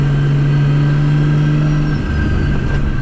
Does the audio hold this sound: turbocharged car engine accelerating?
yes